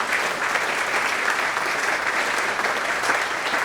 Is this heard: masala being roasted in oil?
no